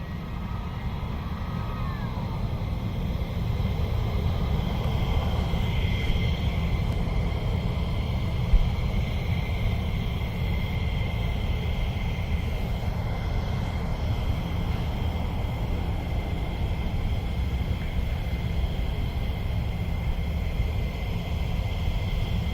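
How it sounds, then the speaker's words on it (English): F-15 fighter jets at RAF Mildenhall give off a steady, distant engine roar, a low rumble with a faint whine above it, holding even throughout with no talk. "you can certainly hear the wonderful sound of those F-15s"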